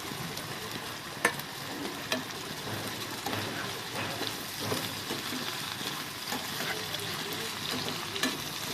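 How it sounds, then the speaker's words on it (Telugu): Tomatoes sizzle and fry steadily in a pan for a flat bean (chikkudu kaya) curry, with occasional stirring clatters and spoon knocks over the continuous hiss. "ఇప్పుడు టమాటాలు వేసుకుందాం."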